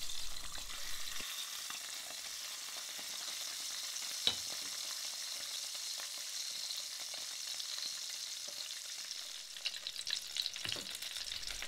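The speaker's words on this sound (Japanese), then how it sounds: "同じように反対側も5分焼いていきます。" Duck breast sears steadily on its side in a hot pan, a continuous close sizzle and spatter with a brief sharp pop near the middle and livelier crackling toward the end.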